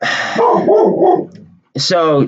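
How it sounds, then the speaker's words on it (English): A pet dog at home barks and yips close to the microphone, a couple of sharp calls mixed in with a man's speech, loud and brief. "I'm sorry about my dog."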